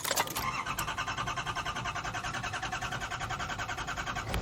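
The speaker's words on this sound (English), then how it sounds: "Does the engine still work?" A fully restored 1986 Ford Cortina's engine runs steadily at idle, a close, even mechanical hum with a rapid repeating pulse, after a brief louder burst at the start as it catches.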